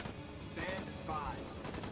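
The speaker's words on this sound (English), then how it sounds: "That machine gun is taking down everything that moved." Machine gun fire in a video game sounds as rapid, faint bursts of shots over roughly two seconds, set low in the mix.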